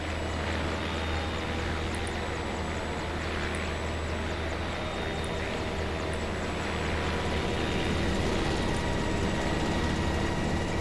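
Video game helicopter during an exfil: a steady, loud rotor and engine drone that fills the whole stretch with little change.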